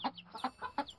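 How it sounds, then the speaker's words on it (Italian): Hens clucking close by, a quick series of short rhythmic clucks in rapid succession, clear and distinct with little else around. "Eccoci di nuovo qui, galline."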